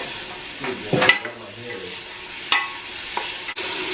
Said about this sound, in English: I'm just gonna throw the onions in there. And you want them to get nice and translucent